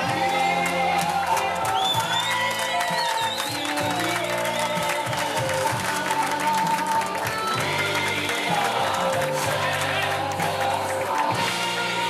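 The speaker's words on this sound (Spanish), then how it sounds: "Un aplauso muy fuerte, Oviedo." Crowd at a horse auction applauds and cheers loudly and continuously, with shouts and whoops over a sustained low musical or amplified drone in a large venue.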